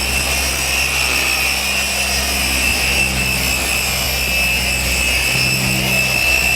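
A rotary polisher fitted with a wool pad runs under light pressure, a loud constant motor whine with steady high tones that holds unchanged throughout, without any voices.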